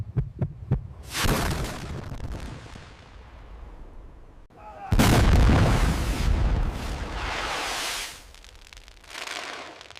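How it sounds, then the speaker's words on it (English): Missile launch effect: a roaring, rumbling blast that swells suddenly, sustains loudly with a broad rushing tail, then fades and rises again, preceded by a few sharp thuds and a whooshing build. "Missiles were launched, flying straight toward the U.S. carrier."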